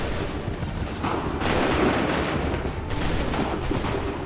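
Massed musket volleys crack and roll in the Assassin's Creed 3 Lexington and Concord battle, dense overlapping gunfire bursts with rumbling reports filling the scene, loud and continuous, with a surge of shots midway.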